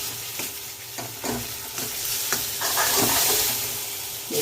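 Food frying in a pan while being stirred: a constant hissing sizzle broken by repeated scraping strokes of a spoon, close up and fairly loud, with no talking.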